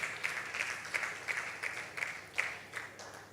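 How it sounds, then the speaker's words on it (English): Audience applauding at a technology summit, with steady clapping from many hands that rises and falls in regular swells and stays fairly distant and moderate in volume. "And I think they deserve a round of applause"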